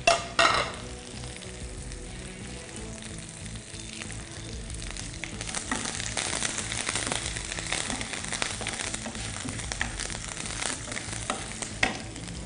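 Dried red chillies, green chillies and curry leaves sizzling and crackling in hot oil for gongura pulihora, with steady frying hiss and occasional stirring clatter, growing busier partway through.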